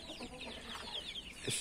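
Chickens on a farm cluck softly in a quick, scratchy run of short calls, with one brief louder squawk near the end and no talking.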